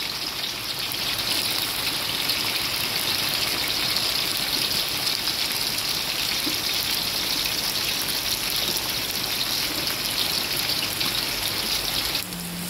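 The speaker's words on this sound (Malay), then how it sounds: "tumis dulu cili kering sebanyak 5 biji kita cut kecil-kecil masukkan bawang putih" Dried chilies and garlic sauteing in a pan, giving a steady, loud sizzle like rain that runs unbroken throughout with no talking.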